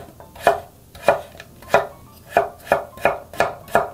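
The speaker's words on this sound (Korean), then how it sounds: "감자는 드시기 좋은 크기로 썰어주세요." Knife chopping potatoes into bite-size pieces on a cutting board, about nine crisp, evenly spaced thuds, close and moderately loud, with no talking.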